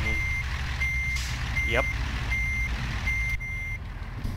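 A truck's reversing alarm in the game American Truck Simulator beeps steadily in evenly spaced pulses over a low engine rumble. A voice briefly speaks partway through.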